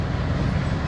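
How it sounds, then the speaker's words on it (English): Metro train interior ride in St. Louis, a steady loud low rumble and rolling rail noise throughout, with no clear voices. "We're on the metro right now."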